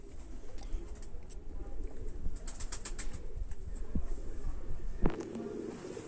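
A homer racing pigeon coos softly at close range over steady background hiss, with a few light taps and a brief flutter near the end.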